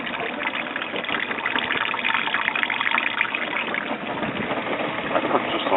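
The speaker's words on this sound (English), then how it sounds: "water is dripping down into the bucket." Meltwater from a mini fridge being defrosted runs steadily into a bucket below, a continuous rain-like patter and trickle that stays fairly loud and even throughout.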